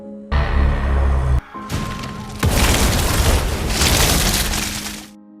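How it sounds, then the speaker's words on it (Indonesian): Film explosions as family members burst one after another: a heavy low boom, a brief pause, then a louder sustained blast with crackling and shattering debris, close and loud. "satu persatu anggota keluarga itu mulai meledak"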